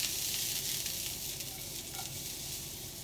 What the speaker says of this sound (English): Onions and mushrooms in first. Get a little sizzle.